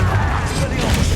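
Confringo and Incendio spell blasts from Hogwarts Legacy, a loud, close run of booming bursts and crackling mechanical impacts packed tightly together over a brief moment.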